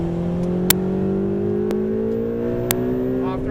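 A Ferrari 488 GTB engine revs on a track with a steady rising drone as the car accelerates. It is heard from inside the car at a fairly loud level, with a few sharp clicks on top.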